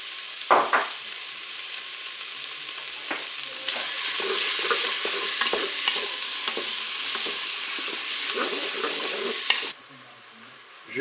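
Shrimp and flat beans cooking in a Cookeo multicooker, a steady sizzle with scattered clicks and stirring scrapes that swells partway through, then drops off abruptly near the end.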